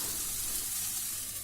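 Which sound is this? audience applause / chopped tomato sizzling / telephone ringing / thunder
chopped tomato sizzling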